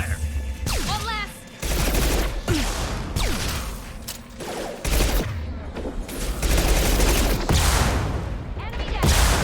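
Heavy gunfire and energy weapons in the sci-fi shooter Mass Effect 2: dense, continuous volleys of loud shots and mechanical clatter during combat, with a voice speaking partway through.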